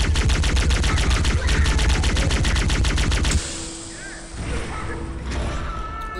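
Rapid automatic gunfire crackles loudly in Halo: Combat Evolved, a dense burst of shots for several seconds that cuts off abruptly, followed by quieter thuds and low rumble fitting grenade blasts.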